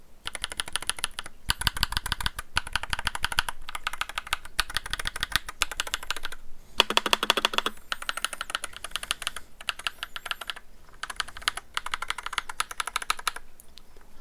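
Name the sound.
typing on Royal Kludge RK61 Plus keyboard with creamy blue switches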